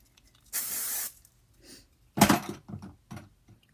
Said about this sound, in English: give this just a little bit of back comb spray